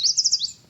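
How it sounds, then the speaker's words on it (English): A small bird on a nature trail gives a quick run of four or five high, bright chirps, close and clear over quiet background, ending in a short falling note. "Look, there's a little bird."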